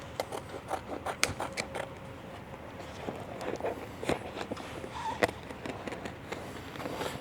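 Scissors or a blade trim a vinyl graphic piece for a Ford Bronco Raptor kit, quiet close snips and crisp clicks in an irregular rhythm with light rustling between cuts.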